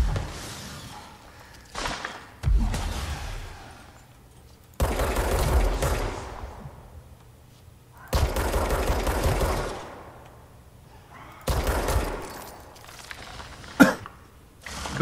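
Bursts of gunfire from the video game Control come in several separate volleys of rapid shots, each a few seconds long, with quiet gaps between them and one sharp crack near the end.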